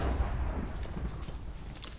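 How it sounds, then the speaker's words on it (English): A low rumbling explosion in modded Minecraft (FTB), a deep muffled boom that fades over about two seconds. "There was a sympathy explosion upstairs"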